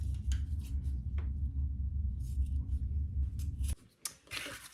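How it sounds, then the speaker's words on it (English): Scissors snip through the excess end of a zipper on a sewing project: a low steady rasp of the blades, then a sharp cut and a couple of brief clicks near the end. "Now you can cut off your excess zipper here."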